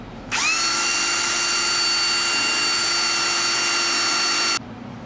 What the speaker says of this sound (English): Now I'm going to take the old trusty drill. I've got a foam pad on it